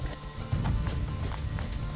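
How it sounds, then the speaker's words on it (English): A horse trotting during a warm-up ride, rhythmic two-beat hoof clip-clops on soft ground repeating steadily at moderate distance, with faint background noise. "This is a trot, and if you can see, the horse's legs work in diagonal pairs."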